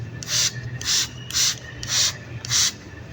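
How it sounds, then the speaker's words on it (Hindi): Water spritzes from a hand spray bottle onto outdoor potted plants, five even hissing bursts about half a second apart, close and fairly loud over faint background noise and wind. "अभी पौधों को करती हूँ मैं स्प्रे।"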